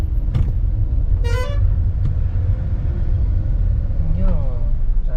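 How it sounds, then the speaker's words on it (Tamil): Busy road traffic in Poonamallee, Chennai, heard from inside a 2015 Alto K10 Automatic: a steady low engine rumble with a couple of short car horn toots cutting through, plus faint talk. "இங்கேயும் டிராஃபிக் தான்டா."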